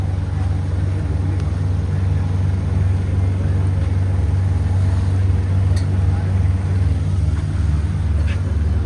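Steady low engine rumble of a small motorboat on the river near Prayagraj and Kashi, towing a larger boat that has no engine, droning continuously and close without pause.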